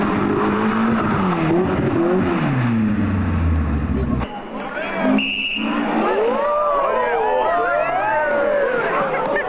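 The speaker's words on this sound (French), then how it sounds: "Daniel Gaspard se débat avec une Toyota Corolla que l'on retrouve bien souvent en fâcheuse posture." Toyota Corolla rally car, driven in an acrobatic style, its engine revving and sweeping in pitch under a continuous noisy roar, with a sharp cut midway and screechy tonal sweeps after it.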